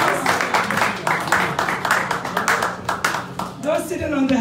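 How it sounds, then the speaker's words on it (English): Audience claps at a fundraising event in Columbus, Ohio, with a loud, fairly rhythmic run of clapping and cheering voices mixed in, ending as a voice rises over it. "Give them a round of applause."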